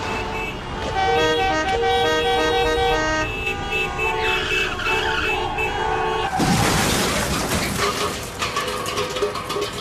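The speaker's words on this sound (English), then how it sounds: "Horns make a pattern of sounds that we use to alert other drivers." Car horns toot in a repeated pattern, followed by a loud burst of screeching tires and traffic noise.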